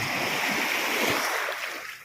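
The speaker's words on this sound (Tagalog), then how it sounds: "Malakas pa rin alon." Strong sea waves after heavy rain wash in as a loud, steady broadband rush of surf that eases slightly toward the end, with no voices.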